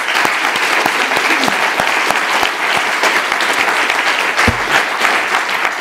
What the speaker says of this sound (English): applaud for them.